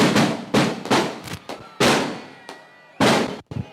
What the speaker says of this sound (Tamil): வெடி வெடிக்க வேணாம், வெடியை நிப்பாட்டி வைங்க.